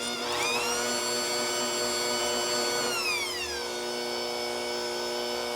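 Electric mixer blending flour, sugar and cinnamon dough for licorice snaps, a loud steady whine that rises in pitch briefly and then settles lower, running continuously up close.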